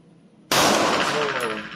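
A pistol fired right-handed at a ten-metre range lets off one sharp, very loud report that rings and decays for over a second.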